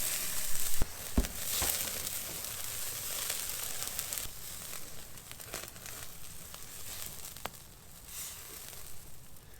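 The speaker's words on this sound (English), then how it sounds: "Tell you what, Zach, what do you reckon of this steak, mate? Coming along alright?" Steak sizzling on a cheap portable camping firepit, a steady close crackling hiss with occasional sharper pops, moderately loud and continuous, no talk over it.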